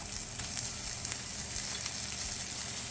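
Steady sizzling and frying in a pan where halibut is searing and unsalted butter has just been added, a constant crackling hiss with no talk.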